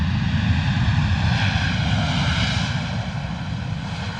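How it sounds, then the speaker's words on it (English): Wizz Air Airbus A321neo jet approaching a misty London Luton Airport, a loud, steady engine roar with a whining tone that holds throughout and eases slightly near the end. "there it is, appearing through the mist. Wizz Air A321 Neo"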